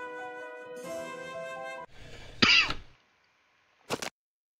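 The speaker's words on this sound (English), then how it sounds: "Sorry about my cough." A single short, harsh cough breaks out after game music stops, followed by a brief throat-clearing sound a moment later, both close and fairly loud against silence.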